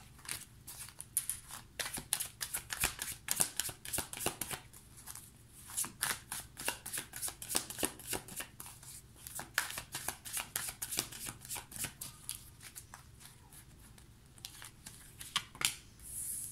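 Tarot cards shuffled by hand in a steady, continuous flurry of crisp riffling snaps and slaps, close and fairly quiet, with no voices.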